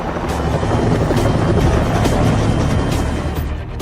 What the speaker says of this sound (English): This chopper appears out of nowhere.